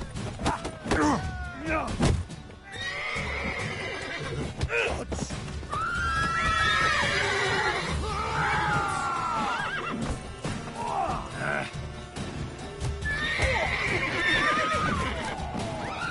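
Horse neighs and whinnies ring out repeatedly in the Witcher 3 video game, over clip-clopping hooves and a busy, dense backdrop of game sounds with occasional thuds.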